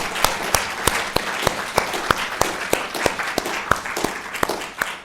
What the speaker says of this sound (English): please join me for applauding the staff members